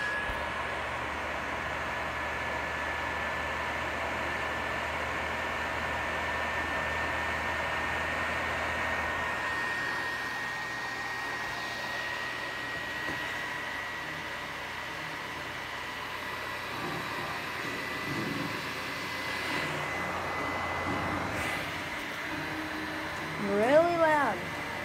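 An overheating PlayStation 4 console fan runs loudly, a steady close-up whooshing roar that holds evenly throughout, with a brief louder bump near the end.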